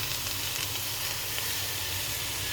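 Tilapia fish frying in a pan gives a steady, even sizzle and hiss throughout, moderately quiet with no talking.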